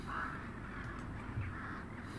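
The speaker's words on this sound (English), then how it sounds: "What am I feeding the birds?" Crows caw faintly in a horror video game over a steady low ambient drone, the calls soft and somewhat distant and blended into the dark background hum.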